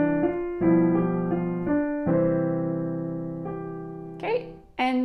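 Piano plays a tonic chord and then a dominant seventh chord: several struck chords ring out and slowly decay, close and clear, and a voice starts speaking at the very end.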